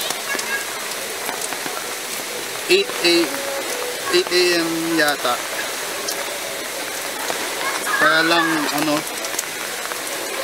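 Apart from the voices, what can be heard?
heavy rain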